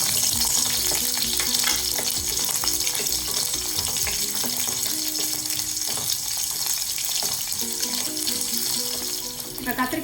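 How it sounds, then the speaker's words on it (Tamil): Small shallots and garlic frying in oil in a pan for a Tamil pepper kulambu, a steady loud sizzle with scattered stirring clatter and tonal background music running throughout. "இப்போ இந்த சின்ன வெங்காயத்தையும் பூண்டையும் இதில் சேர்த்துறேன்."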